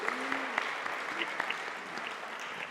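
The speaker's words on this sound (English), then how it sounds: "Can we get a round of applause for everybody in here?" A small crowd claps steadily, with scattered sharper individual claps standing out throughout.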